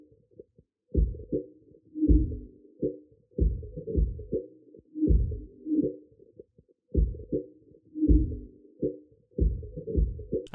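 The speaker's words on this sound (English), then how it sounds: "And then for the same thing with this drum perk loop that I got off Splice." A downsampled drum percussion loop from Splice plays alone, a muffled, dull pattern of thumping hits in a steady bouncing rhythm that repeats every couple of seconds.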